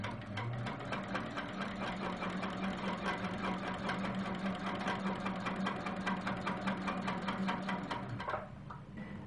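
A sewing machine stitches down a quilt's outer border along a curved ruler, its steady rapid mechanical whir running continuously and fairly close before easing off near the end.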